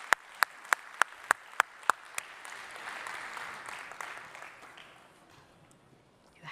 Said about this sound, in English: give both Deepika and Hemant a big round of applause as they come up and talk to us about the transformation principles.